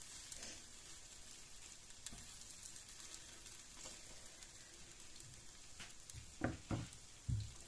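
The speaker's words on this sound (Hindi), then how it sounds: "ऐसे आपने इसको अब ऑयल में फ्राई करते जाना है" Quiet, continuous sizzle of chicken vegetable sandwiches frying in oil, a soft crackling hiss with a few louder spatters and handling clunks near the end, no talking.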